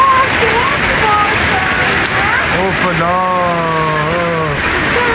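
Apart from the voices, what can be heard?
heavy rain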